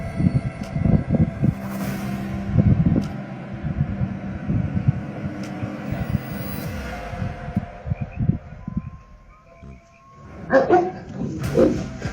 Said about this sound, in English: I hear the coyotes are going out.